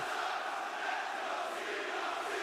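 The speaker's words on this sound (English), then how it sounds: "Brussels crowd is loud." A loud, dense wrestling arena crowd in Brussels roars and chants continuously, a steady wall of many voices with no pauses.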